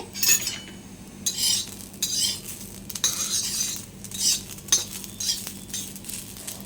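Cluster beans and a coarse green chili paste roast in a pan, with repeated scraping and stirring strokes over a soft, steady sizzle.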